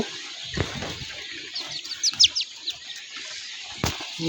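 Short bursts of quail wings flapping, with a quick run of small chirps in between, in a fairly quiet setting on a quail farm.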